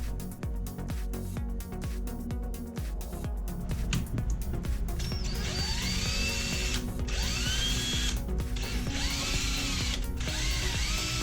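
A power drill spins a homemade cloth wheel-cleaner rig, cloth fastened with a cable wrap, giving a steady loud whirring drone with rising and falling pitch sweeps as the speed changes, running continuously with no talking.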